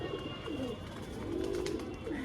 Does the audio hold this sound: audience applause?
no